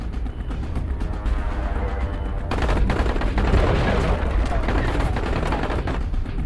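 Dense gunfire rattles continuously in the Dying Light video game, loud bursts of shots aimed at the player keep going without a break while someone talks over the action.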